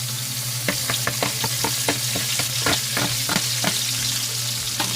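Garlic and chili sizzle loudly in a hot pan of oil, a close, constant crackling fry broken by quick scraping taps of a stirring spoon, with no voices.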